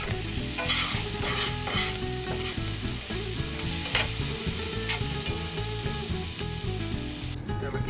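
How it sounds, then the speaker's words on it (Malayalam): Prawns fry in a pan for a hotel-style prawn fry, with a constant close sizzle and a steady run of stirring scrapes against the pan, loud and unbroken, with nobody talking. "അടിക്ക് പിടിക്കാതെ നല്ല ഗോൾഡൻ കളർ ആകുന്നത് വരെ ഇത് ഫ്രൈ ചെയ്യണം."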